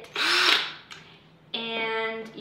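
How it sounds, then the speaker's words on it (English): A power drill with a 1/16 inch bit bores a hole into a metal paint can, heard as a close, loud whirring burst, a brief pause, then a second steady high-pitched drilling run. "you need to drill a hole in your can. So really, you use a 1/16 of an inch bit"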